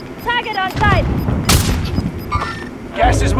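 Gunfire in a video game with a sharp burst and scattered booms, mixed with tonal game effects and heard under ongoing voice chatter.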